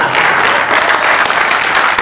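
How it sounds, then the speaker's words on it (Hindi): Audience applause at a Hindi stand-up comedy show, a steady dense clapping from a crowd that fills the short stretch loudly without pause. "तालियां, एक ताली"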